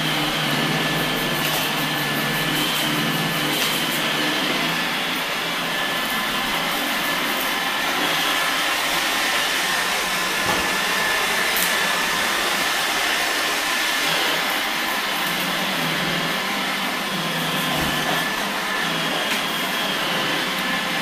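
An iRobot Roomba 880 robot vacuum runs over thin carpet, giving a steady loud whirring hum of motor and brushes that continues unbroken throughout.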